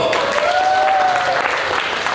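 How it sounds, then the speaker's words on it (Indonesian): Audience of men at a church Father's Day gathering applauds together, a steady wash of many hands clapping at moderate loudness throughout, with a faint voice or tone lingering underneath. "Tepuk tangan dulu"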